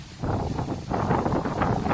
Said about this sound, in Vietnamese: gió rất khủng.